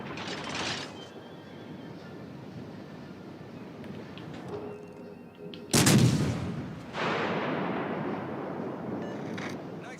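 A heavy artillery shot on a designated target fires with a sudden loud boom, then a sustained rumbling roar that fades into continuous low noise over about ten seconds.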